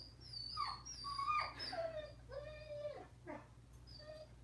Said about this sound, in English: I really wish someone would shut my dog up.